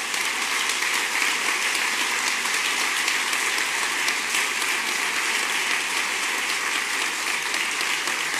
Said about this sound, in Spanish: Os quiero pedir un aplauso para ellos y ellas